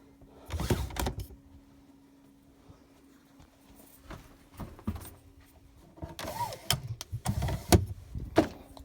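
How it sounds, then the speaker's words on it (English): Blackout blinds in a 2002 Autotrail Dakota motorhome are pulled and released, giving scattered close clicks, thumps and brief rattling slides that come in bursts with quiet gaps between them. "All the blinds operate as they should do"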